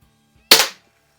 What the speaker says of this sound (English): Close the loading gate, now you're ready to shoot.